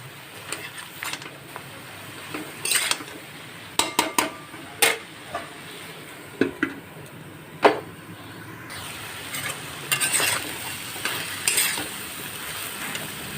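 Pumpkin greens seasoned with salt and turmeric are stirred in a pan, giving sharp scrapes and clinks of a spoon against metal at irregular intervals over a soft, steady sizzle, with no talking.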